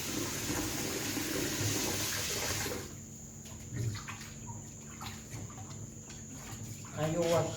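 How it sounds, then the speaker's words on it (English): Water runs from a kitchen tap while chicken feet are washed, a loud steady rush for the first few seconds, then softer trickling and splashing. "Now I'm going to run my water on."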